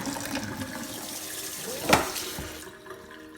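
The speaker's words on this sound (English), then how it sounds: "Drain the noodles under cold running water." Cold water runs and splashes steadily into a sink over draining glass noodles, with a brief louder gush in the middle before the flow fades.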